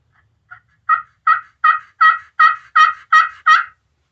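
A $20 Walmart glass turkey call worked with a wood striker gives a run of about nine loud, clear yelps, rising in strength from faint opening notes to steady, evenly spaced strokes, heard alone.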